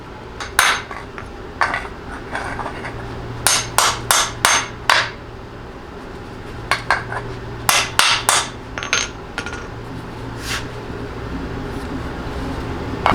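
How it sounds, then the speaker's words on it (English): Sharp metallic hammer blows drive bolts into a 2004-2008 Ford F150 during a level kit install, striking in quick clusters, loud and close, with short pauses between bursts over a low hum. "So I actually had to hammer these in there"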